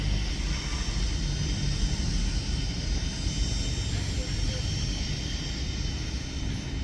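Airplane at Dhaka airport at night, a constant low engine roar heard from a distance with a steady broadband hiss and no distinct events.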